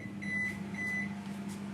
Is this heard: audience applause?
no